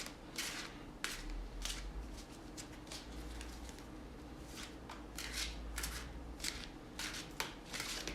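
Tarot cards are shuffled over and over, with soft riffling and slapping bursts in an uneven rhythm, close and fairly quiet, and no one speaks.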